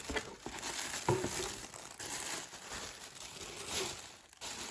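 Close crinkling and rustling of plastic and paper as a package is opened, continuous crackly handling with a few louder tears.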